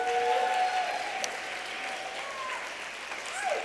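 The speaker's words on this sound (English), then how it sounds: "Give her a round of applause there." Welcoming applause for a speaker at an evening talk and performance event, a soft continuous wash of clapping from a crowd heard at some distance, with faint voices and a whoop on top.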